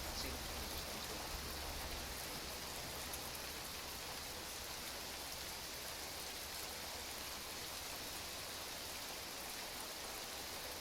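Steady rain falls as a dense, even hiss that runs unbroken and moderately loud throughout, with no other sounds standing out.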